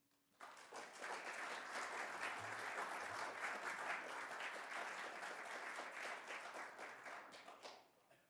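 Sustained applause from an audience welcoming speakers to the stage at a history book event, steady dense clapping that starts abruptly, holds for several seconds and fades out.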